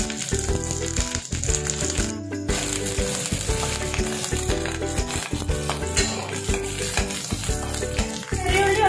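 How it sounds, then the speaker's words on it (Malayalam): Shallots and curry leaves frying in oil in a pan for a Kerala-style tomato curry, giving a steady, loud, continuous sizzle with scraping stirring noises throughout and no voices. "ചെറിയ ഉള്ളി ഇപ്പൊ നന്നായി ഒന്ന് വഴറ്റിയിട്ടുണ്ട്."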